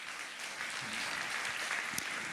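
A church congregation applauds, a steady wash of many hands clapping at moderate volume, continuous and even throughout.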